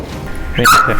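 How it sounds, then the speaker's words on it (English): A single close dog bark, short and loud, comes after a stretch of quiet background, followed by a brief exclamation from a person. "That was a dog."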